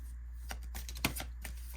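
Tarot cards are shuffled in a quiet room, giving soft, quick riffling flutters and a few light taps over a low steady hum, with no talking.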